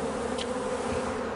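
A dense, steady buzzing of a clustering swarm of about 20,000 bees with their queen, close and continuous, with no voices.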